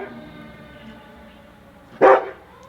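A single sharp dog bark bursts out loudly near the end of a quiet indoor stretch, close by and brief.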